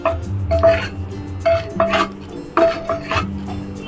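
Puffed, roasted edible gum (gond), fried light in ghee, scraped with a spoon from a pan into a bowl, making close, repeated bursts of clinking and scraping against metal with short pauses between.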